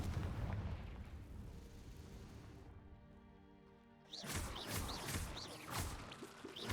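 Confringo blasting spell cast in the video game Hogwarts Legacy: a rumbling fiery burst that dies away to near silence, followed by a loud sequence of sharp explosive cracks and whooshing impacts, close and forceful, with no talk.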